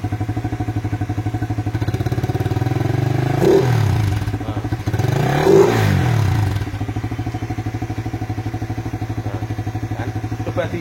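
Suzuki FU 150 fuel-injected motorcycle, engine bored out to 199 cc, idling close by with a steady exhaust thump, briefly rising in two revs with some mechanical clatter before settling back to idle.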